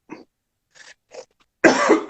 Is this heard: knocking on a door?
no